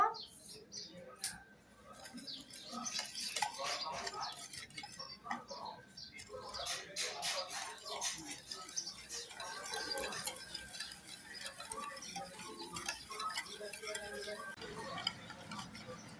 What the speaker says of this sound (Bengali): গাইস, এখন আমি হ্যান্ড উইক্স দিয়ে ভালো মতন মিশিয়ে নিব।